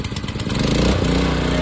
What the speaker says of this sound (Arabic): ها هي نوضة الموتور